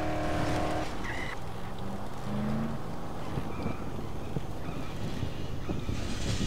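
Video-game car in Dead Island driving steadily, a continuous rumbling engine and road noise with wind-like hiss, loud throughout with occasional faint tonal game sounds over it.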